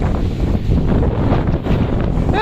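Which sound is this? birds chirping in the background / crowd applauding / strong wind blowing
strong wind blowing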